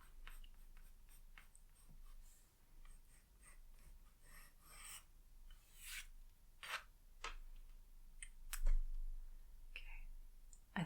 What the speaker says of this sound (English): So I'm just sort of tracing out right now where it lies more than drawing it on.